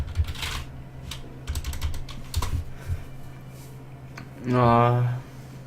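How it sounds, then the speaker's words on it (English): Quick clicks of typing on a computer keyboard in bursts with short pauses, fairly close, over a steady low hum, with a short voiced sound near the end. "if you just have a look now, type in Javier Hernandez"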